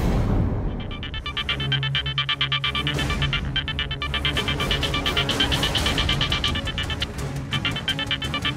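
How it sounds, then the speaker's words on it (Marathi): A telephone rings unanswered, a repeating electronic ringtone pattern, loud and close, cycling steadily for several seconds with no voices over it. "प्लीज फोन उचला, प्लीज फोन उचला"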